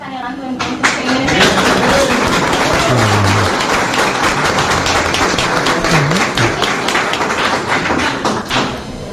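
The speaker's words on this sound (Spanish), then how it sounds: "Aplauden." An audience at a public event in Tucumán applauds, a dense, loud patter of many hands clapping continuously for several seconds, mixed with voices.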